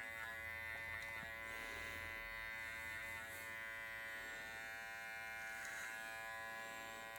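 Electric hair clippers buzz steadily and close by during a clipper-over-comb cut on a men's curly mullet, a constant hum with no talking.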